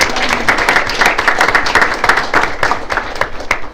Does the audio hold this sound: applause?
yes